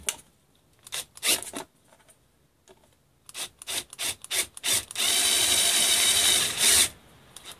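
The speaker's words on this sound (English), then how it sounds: "So we're going to want to drill the outside like that." A drill bores into an RV door for a latch lockset in short bursts at first, then one long steady grinding run, with rubbing and scraping of the bit in the door between the bursts.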